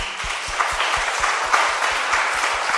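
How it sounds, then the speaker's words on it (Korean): An audience at a church charity concert for a heart foundation applauds, a steady wash of many hands clapping with a low rhythmic thump beneath it. "다시 한번 큰 박수 부탁드립니다"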